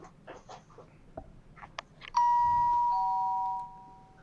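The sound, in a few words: doorbell ringing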